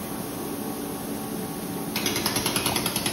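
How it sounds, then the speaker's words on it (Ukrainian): Laboratory laser equipment switches on partway through, adding a steady, rapidly pulsing mechanical buzz over the constant hum of the room. "Запускаємо лазер."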